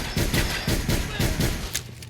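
Smith and Wesson R8 revolver fired repeatedly in Fallout 4, a rapid run of sharp shots in fairly even succession with a brief pause, heard under light game ambience.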